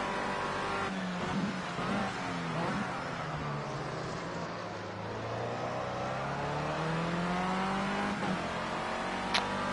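Formula C race car from Project Cars 2 revving hard and climbing through the gears, engine pitch sweeping up and dropping at each shift, loud and steady throughout with faint tire noise.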